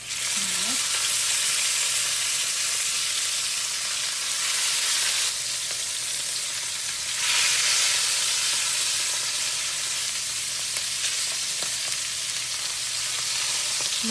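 Meat with its fat on hisses and sizzles in hot oil in a pan, a loud, steady frying crackle that stays close and continuous, with no talk.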